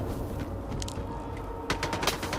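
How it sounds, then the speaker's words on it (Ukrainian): Distant gunfire in the video game STALKER 2 crackles in quick bursts over a steady background rumble, growing denser toward the end. "О, вже стріляють."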